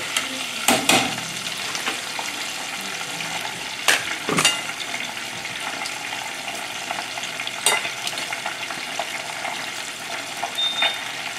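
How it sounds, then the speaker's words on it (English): Chicken pieces for orange chicken frying in hot oil, a steady crackling sizzle throughout with several sharper bursts of spatter and stirring clatter, close and moderately loud, with no talking. "And we're gonna fry the second batch."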